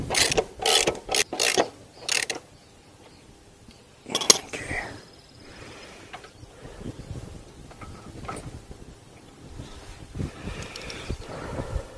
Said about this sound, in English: I'm just going to snug up the axle a bit, or the nut